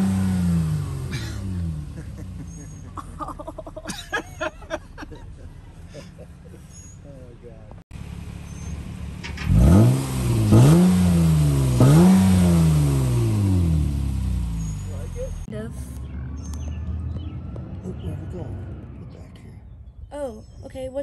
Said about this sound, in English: Nobody was sure what it would sound like with just one electronic cutout, just bypassing one of the mufflers